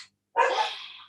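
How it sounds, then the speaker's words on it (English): A single burst of dog barking, close and fairly loud, lasting under a second after a brief silence. "Sorry for the dogs barking."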